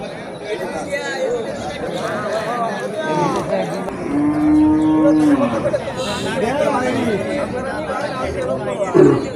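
Large local cattle lowing at a village cattle market in Netrokona, with one long, clear moo rising over the steady chatter and hubbub of a nearby crowd.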